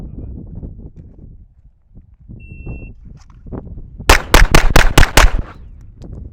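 Pistol shots in a shooting drill, with about six sharp reports fired in quick, even succession after a quiet stretch, loud and close.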